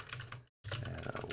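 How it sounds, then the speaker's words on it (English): Loud, rapid clatter of a computer keyboard being typed on, close and continuous with a brief pause midway, used while installing ad-blocking software on a Microsoft Surface Duo. "My keyboard is so loud."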